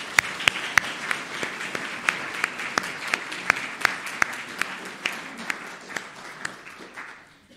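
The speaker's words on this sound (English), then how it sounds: "So let's just have a quick round of applause to John." A church congregation gives a brief round of applause during a Sunday morning service, a moderate crowd of hands with a few sharp, close claps standing out before it tapers away.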